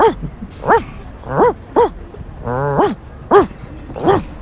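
A person imitates a dog barking in a wheezy, breathless way, a run of about eight hoarse, separate voiced barks with a drawn-out wavering one in the middle, close and loud.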